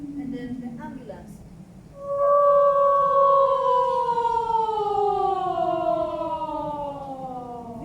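A voice imitates a wailing siren, a long loud tone sliding slowly downward after a brief murmur, sustained for several seconds.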